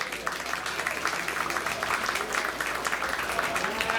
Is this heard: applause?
yes